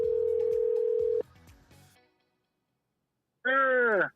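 A phone call back rings out as a steady electronic telephone tone followed by a few clicks, then silence, and finally a short warbling ring tone at the end.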